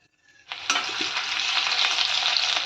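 Cumin, a bay leaf and onion hit hot oil in a kadhai for a Maharashtrian usal, bursting into a loud, steady sizzle after a brief quiet start and crackling on without pause.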